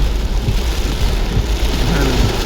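Heavy rain pours down continuously at 1 a.m. in Karmala, a dense, loud hiss of drops beating on surfaces with a low rumble underneath.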